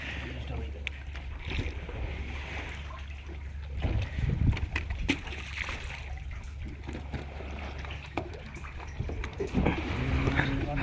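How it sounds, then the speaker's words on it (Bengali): A fishing boat rocks on gentle waves out on the deep sea, with low rumbling water noise, soft sloshing and occasional knocks of the hull, while people talk nearby. "হালকা হালকা ঢেউ হচ্ছে, নৌকাটা গড়াচ্ছে খুব"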